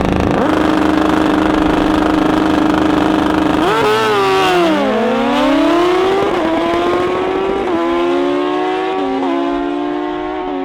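A 2011 Kawasaki drag bike at a heads-up drag racing event, its engine droning loud and close at steady high revs, then sweeping and stepping through pitch changes as the nitrous is purged.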